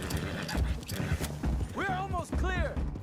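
A horse in the video game Red Dead Redemption 2, with hooves clopping under a background rumble and two loud neighs near the end.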